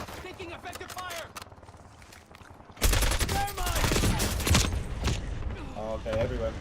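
Heavy gunfire erupts in a multiplayer shooter game, a sudden loud burst of overlapping shots and blasts that keeps going after lighter scattered fire, with players shouting over it.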